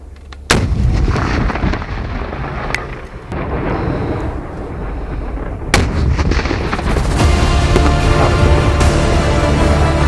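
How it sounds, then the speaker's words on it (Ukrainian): A rocket flamethrower fires with a heavy, booming blast close by, followed by a long rumbling roar and a second sharp crack that trails into sustained low thunder. "Постріл."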